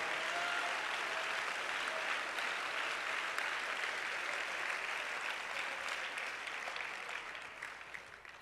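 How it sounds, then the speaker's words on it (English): Congregation at a Saturday devotion service hand clapping for the Lord, a thick continuous roar of many hands that holds steady and then gradually fades toward the end. "Could we give a hand clap to the Lord right now?"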